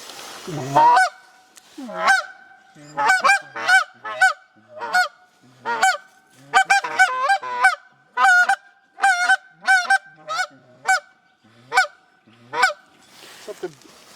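A handheld goose call gives repeated honking clucks, single and double notes in an uneven rhythm, loud and close with short pauses between.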